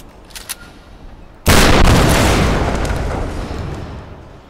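A shotgun fires in the Tomb Raider video game: one sudden, loud, broad blast after a quiet lead-in, with a long rumbling tail that slowly fades over several seconds.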